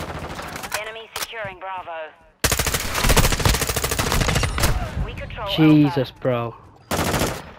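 SCAR rifle firing in Call of Duty Modern Warfare 2, with dense bursts of automatic gunfire close and loud through most of the clip, broken by brief pauses, while a player talks and an in-game announcer voice speaks.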